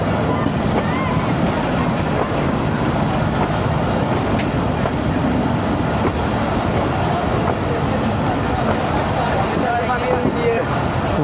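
The Allama Iqbal Express runs from Lahore to Narowal with a dense, loud, continuous rumble and rattle of carriages on the rails, heard from inside the train with steady noise throughout.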